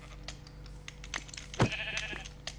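Sheep bleat in a Minecraft game, a short nasal bleat standing out near the middle against a faint backdrop of light clicks and keyboard-like tapping.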